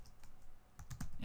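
Fingers tap a computer keyboard while scripting code, a few soft scattered keystrokes at first, then a quicker cluster of louder clicks near the end, close and quiet.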